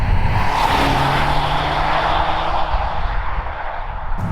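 A 610-horsepower Polestar 1 hybrid car pulls away hard from a standstill, its loud engine roar rising and sustained close by before easing slightly near the end, with no talk.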